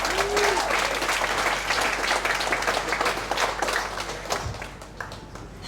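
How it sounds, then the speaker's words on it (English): An audience claps for a speaker at a PechaKucha Night in Ubud, Bali: dense, sustained applause that holds steady before gradually thinning toward the end. "So please give a warm round of applause for Christian."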